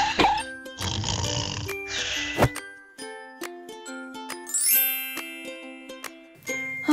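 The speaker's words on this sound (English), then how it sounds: "stop snoring!" A cartoon character snores in exaggerated rhythmic bursts, with tinkling chime and ding effects and short tonal musical notes scattered throughout and between the snores.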